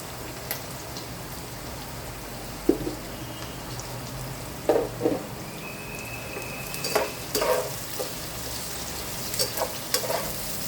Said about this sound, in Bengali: পেঁয়াজটা ঠিকঠাক তাড়াতাড়ি ভাজার জন্য আমি একটুখানি নুন দিয়ে দিচ্ছি।